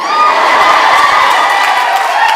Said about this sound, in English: Yeah, you can cheer for that, that's fine.